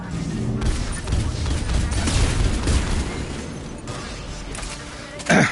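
Turret gunfire in the video game Mass Effect 3: dense, continuous bursts of rapid shots and booming impacts fill the scene, with mechanical clanks and a sharp blast at the end.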